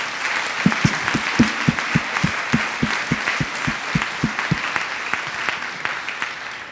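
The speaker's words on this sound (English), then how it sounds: "I want to ask for a round of applause for these two men" An audience gives a round of applause at a youth permanence event, with close, evenly spaced rhythmic claps from one pair of hands over a broader crowd clapping that fades toward the end.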